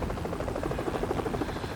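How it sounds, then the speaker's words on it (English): Steady rhythmic thumping of helicopter rotor blades, a continuous pulsing drone at moderate loudness with no voices. "Helicopter."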